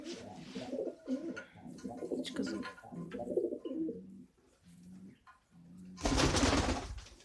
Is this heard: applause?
no